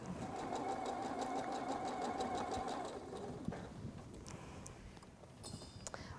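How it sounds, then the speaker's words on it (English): A sewing machine stitches a quilt block with a steady, fast, close mechanical hum and rapid needle ticking, then slows and stops near the end amid some light handling noises. "I'm gonna sew this block together."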